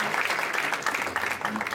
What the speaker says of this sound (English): a nice round of applause also for our panel for excellent feedback